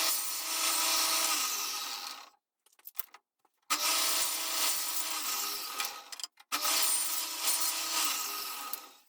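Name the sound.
table saw cutting wood with a sled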